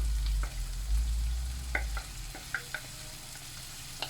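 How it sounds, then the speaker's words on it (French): Shrimp marinade poured into a hot pan, a low rumble early on giving way to a faint sizzle with a few sharp ticks and pops, fairly quiet and close. "la marinade des crevettes. Juste à mijoter 2 petites minutes."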